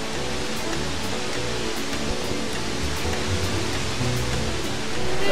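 Iguazu Falls in Argentina, a large waterfall, roars as a broad, steady rushing noise, constant and enveloping, with no voices.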